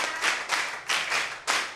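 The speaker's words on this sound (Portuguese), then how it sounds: "Uma salva de palmas." An audience clapping hands at a television news programme, loud bursts of clapping arriving in about four distinct waves with brief dips between them, no talking.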